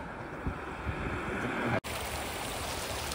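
A small waterfall near Adilabad rushes in a steady, close wash of falling water with a brief dropout partway through.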